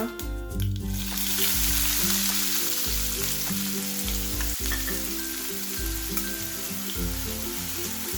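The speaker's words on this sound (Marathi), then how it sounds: "कांदा आपल्याला छान गोल्डन रंग येईपर्यंत छान असा परतून घ्यायचा आहे" Onion sautéing in hot oil with mustard and cumin seeds for egg tawa masala, a steady close sizzle with bright seed crackle and repeated low scraping stirs throughout, no voices.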